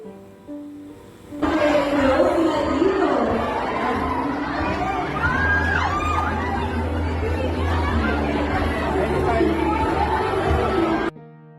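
Fans and supporters scream and cheer as a celebrity walks a black carpet, a dense close crowd roar with high shrieks and chatter that starts abruptly and holds steady, voices talking throughout.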